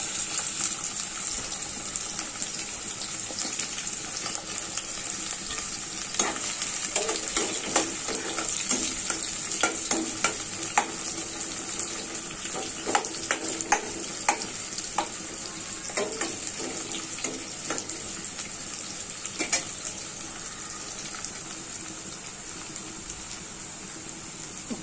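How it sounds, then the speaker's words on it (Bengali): Chopped onions sizzle steadily in hot oil for a chatpati snack, with repeated spoon-scraping stirs clattering through the continuous close, loud frying hiss. "তেলটা গরম হয়ে গিয়েছে, এখন পেঁয়াজ কুচি দিয়ে দিচ্ছি"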